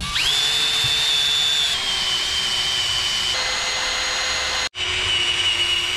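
A power drill boring bolt holes for mounting a Chinese 10hp diesel engine onto a generator cart, a loud steady whine that drops in pitch as it bites, with a brief stop before drilling resumes.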